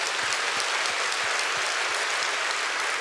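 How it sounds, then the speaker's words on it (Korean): Church congregation breaks into a burst of applause giving thanks to God during a Sunday praise service, dense steady clapping from a large crowd filling the room at even loudness throughout. "그 지혜를 주신 하나님께 감사의 박수 한번 칩시다."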